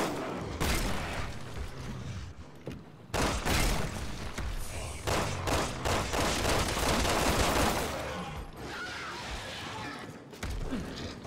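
Gunfire in the video game Resident Evil 6, including sniper fire, crackles as dense continuous bursts and volleys over about eleven seconds with brief gaps, loud and close, with a game soundtrack underneath.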